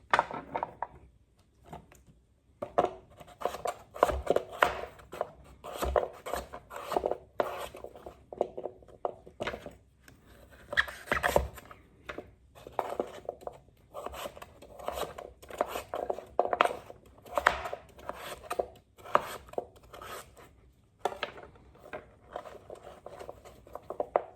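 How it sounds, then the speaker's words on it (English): Steady, irregular knife taps on a cutting board as food is chopped into pieces, close and moderately loud, with no talking. "And then I'm just going to go ahead and just cut into cubes."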